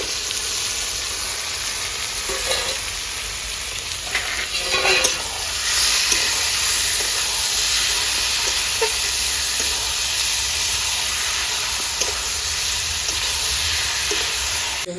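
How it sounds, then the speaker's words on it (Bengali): Chicken poured into a hot pan with ginger, garlic and green chilli, a loud, dense sizzle and hiss running steadily throughout with a few scraping stirs, close and continuous. "এখানে চিকেনটা ঢেলে দেবো"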